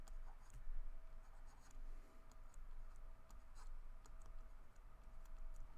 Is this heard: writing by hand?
yes